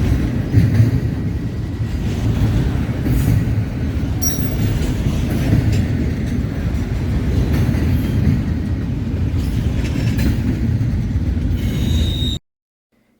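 Freight train rolling steadily past the Vine Street crossing in Decatur, Alabama, a continuous loud rumble of railcars with faint wheel squeal and rail clatter for about twelve seconds before cutting off abruptly.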